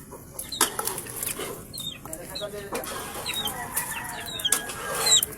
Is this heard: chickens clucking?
yes